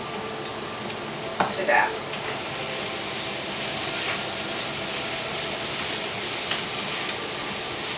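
Bean sprouts sizzle and fry with rice in a hot pan, ham and pineapple in the mix, giving a steady broadband hiss with a few brief clatters of stirring; a voice speaks briefly early on.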